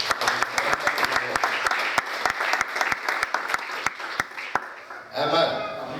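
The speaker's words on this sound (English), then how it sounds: "Shall we clap for this word?" A church congregation applauding during a sermon, sharp claps that begin dense and then thin to scattered separate claps, after which voices start.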